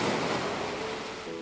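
Ocean surf washing steadily in an audio drama, a broad continuous rush of waves with a low wash; no distinct splash impact stands out, and it plays alone without talk.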